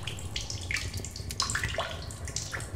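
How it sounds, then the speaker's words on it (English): Water drips and trickles inside a cave in The Solus Project, a steady wet patter of irregular droplets over low ambient rumble, fairly close and moderately loud with no voices. "Water dripping somewhere."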